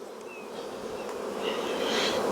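A dense, steady hum of honey bees buzzing up close inside an open hive, a continuous droning swarm that grows slightly louder over a couple of seconds.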